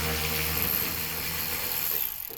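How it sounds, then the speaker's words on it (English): A power tool runs in one loud, steady, close whirring burst as it unbolts a furnace plenum, winding down at the very end with no talking. "Unbolt the plenum to the furnace."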